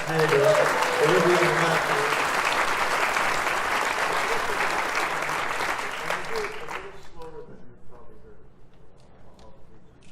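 Big round of applause for a band at a theatre concert, a loud crowd clapping and cheering that gradually fades out and drops away near the end.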